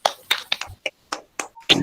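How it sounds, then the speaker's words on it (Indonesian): Students in a classroom give a short round of applause: about eight sharp, separate claps in an uneven rhythm, close and fairly loud, with no talking over them. "kita kasih tepuk tangan dulu untuk anak Pak semuanya"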